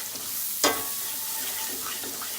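Garlic sizzles in a hot pan of pork tenderloin drippings, with a sharp clatter as it drops in, then a steady frying hiss and faint stirring scrapes, close and moderately loud with no talk.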